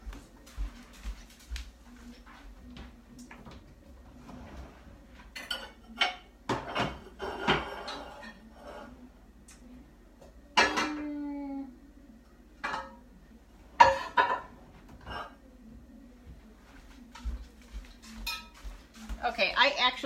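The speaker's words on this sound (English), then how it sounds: "Let me switch pans." Baking pans are swapped in a home kitchen, with metal pots, pans and cutlery clanking and clattering in irregular bursts, some loud and close, separated by quieter handling noises, with brief talk in between.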